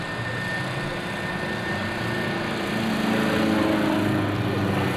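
A steady aerobatic propeller plane engine drones continuously at an airshow, moderately loud and even, with a slight swell toward the end and no voices.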